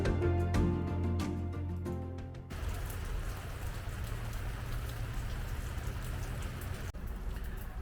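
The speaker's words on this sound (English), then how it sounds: "Well, we got a rainy day here" Steady rain patters on a surface at a campground on the Florida coast, a dense continuous hiss that continues after an earlier tonal hum stops.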